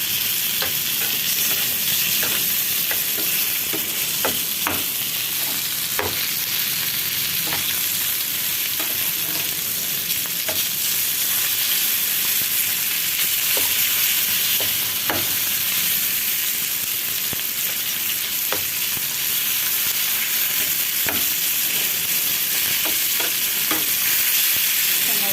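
Bitter gourd frying in a pan, a steady, even sizzle of hot oil running continuously with occasional stirring scrapes and clicks of a utensil, close and without talk.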